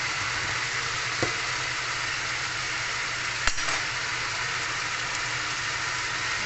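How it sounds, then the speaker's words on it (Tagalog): Ground pork giniling fries in a pan with a steady, dense sizzle that holds an even level throughout, broken by two sharp utensil clicks against the pan, with no one talking. "Fry time!"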